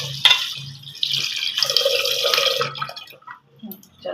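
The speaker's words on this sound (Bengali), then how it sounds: "চালটা ধুয়ে নিই পরিষ্কার করে।" Rice is washed by hand in water in a home kitchen, with irregular sloshing splashes and drips in short bursts, close and fairly loud.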